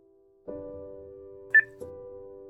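Phone keypad tones sound while dialing into voicemail: a steady dial tone breaks, then a couple of short beeps follow, clear and close with no talking.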